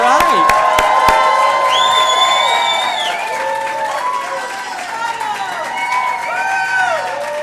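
A crowd at a Nasdaq event during the 2017 Chicago Innovation Awards claps and cheers loudly and steadily, with whoops and shouting voices rising above dense applause that begins with a few sharp, close claps.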